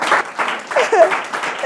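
Applause from an audience, clapping in uneven swells that rise and fall, fairly close and moderately loud.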